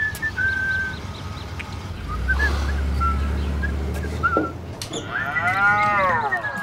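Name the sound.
cow moo sound effect when the door opens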